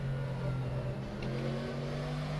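A Mercedes AMG GT3 race car engine drones steadily in the rFactor 2 racing game on the Nordschleife, a sustained mid-pitched hum holding at high revs without pause.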